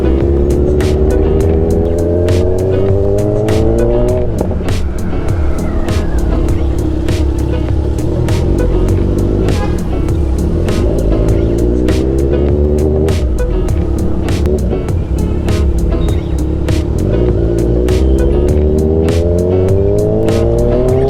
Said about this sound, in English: get the feel how this bike performs on highway, how it feels like after pulling the throttle